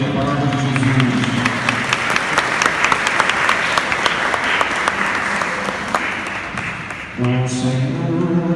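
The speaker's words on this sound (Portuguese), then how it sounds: "Vamos aplaudir o Evangelho, a palavra de Jesus." A church congregation applauding the Gospel reading during a solemn Mass for the Assumption, steady clapping from many people for several seconds before it stops and a sung or spoken voice returns.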